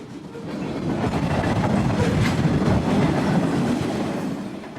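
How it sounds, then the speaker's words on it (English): An eastbound Burlington Northern manifest freight train rolls past at close range, a loud, continuous rumble of wagons and wheels with faint clickety-clack, swelling and then easing slightly as the cars go by. "an eastbound manifest freight on the Burlington Northern heads straight past the camera"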